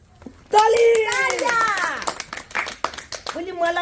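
Children clapping at a Republic Day celebration dance show, with steady applause running under a loud announcer's voice that dominates the scene.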